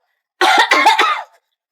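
A single short burst of coughing, three or four rapid harsh hacks run together, close and loud against silence.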